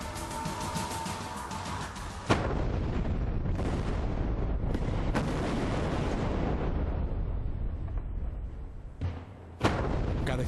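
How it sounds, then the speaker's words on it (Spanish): Controlled blasting explosions at pier 9 during construction of the Baluarte bridge: a distant rumbling roar with sharp detonation cracks, one near the start and another late, under continuous churning noise. "Cada explosión genera una propagación de ondas parecida a la de un sismo."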